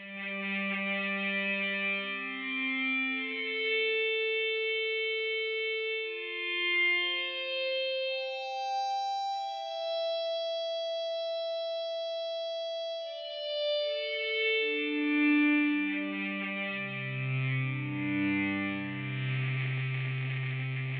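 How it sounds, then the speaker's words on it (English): Electric guitar played with an ebow gives long, sustained metallic notes that glide and swell one into the next. The notes are effects-laden with echo and slight distortion and play steadily alone for about twenty seconds. "This is a guitar played with an ebow or electronic bow"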